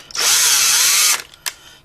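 Power drill working on a stuck screw: a loud, close whine runs for about a second with the pitch sagging and rising under load, then cuts off, followed by a short second burst.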